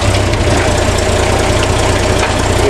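Rat rod engine idling after a clutch adjustment, a loud steady low chugging rumble with an even pulsing beat and mechanical rattle, close by and alone.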